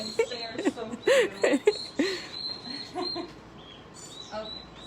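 Young robins give short, high chirps in quick bursts, close by and fairly clear, with people talking softly around them.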